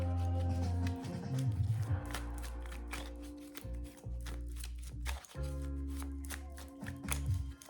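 A tarot card deck shuffled by hand close up, making repeated rapid riffling and tapping flurries over a steady low hum, without speech.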